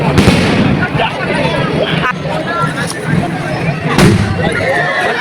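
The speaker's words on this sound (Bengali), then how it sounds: "তো এখন বাজি পোটা আরম্ভ হয়ে গেছে।" Fireworks bursting at a crowded fair during a puja festival, with several sharp pops and booms over a constant hubbub of crowd noise and voices.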